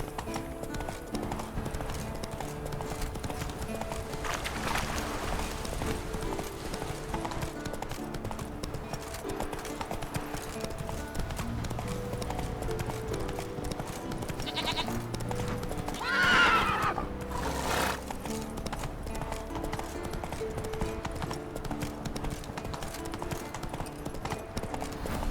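Roach the horse gallops with steady, rapid hoofbeats on open ground in The Witcher 3, under an ambient game soundscape, with a loud neigh partway through.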